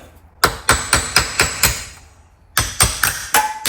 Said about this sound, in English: I'm gonna hit it on the inner race right there on the right there on the side, and then a little bit on the other side